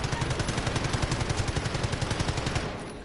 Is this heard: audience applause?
no